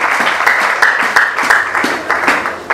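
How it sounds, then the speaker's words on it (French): A church congregation applauds after a scripture reading about Hebron, a steady, fairly loud round of clapping with rhythmic accents running through the whole stretch, no voices on top. "Nous acclamons pour la parole du Seigneur"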